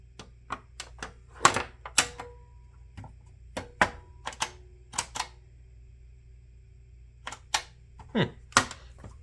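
A PlayStation One console, brought in with a no-power fault, gives off sharp mechanical clicks and clacks from its mechanism. They come close by in irregular bursts, with quiet gaps between them and no talking.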